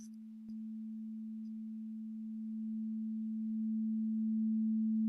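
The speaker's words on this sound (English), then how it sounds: "All right, good old sine wave." A pure, steady sine wave tone at a single low-mid pitch holds unbroken and alone, starting quietly and ramping gradually louder over several seconds.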